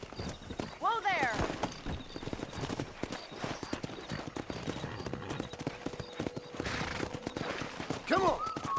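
Horse hooves clip-clop steadily in Red Dead Redemption on a ranch near wild horses, with a whinny near the start and a voice shouting commands over the hoofbeats.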